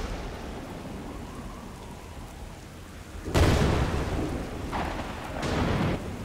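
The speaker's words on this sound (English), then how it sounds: "Thunder strike." Steady rain in the Strayed Lights video game is broken by a sudden loud thunder crack around the midpoint, followed by rolling rumbles that swell and fade.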